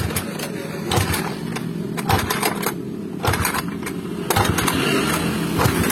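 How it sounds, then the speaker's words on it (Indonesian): A Honda Vario 150 scooter with a battery-drain fault cranks repeatedly without starting, a rapid mechanical whirring in uneven bursts with brief gaps between attempts, close and fairly loud. "kita hidupin motornya, hidupin"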